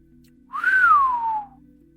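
A narrator imitates a baker's whistle with one clear, close whistle that sweeps up and then slides slowly downward in a long falling glide, alone over faint low hum.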